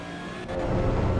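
A car engine in Assetto Corsa EVO climbs in revs and bounces against the rev limiter, a steady, loud buzzing drone building over about a second.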